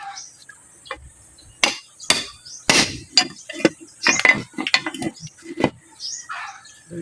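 Sharp metallic strikes from hammering a broken hand drill for scrap copper ring out irregularly, some loud and close, others lighter, with a faint high insect-like buzz in the background between hits.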